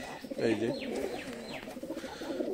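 Several pigeons coo close by at nightfall as they crowd into their cage, with soft overlapping calls and fluttering, while a person speaks briefly over them.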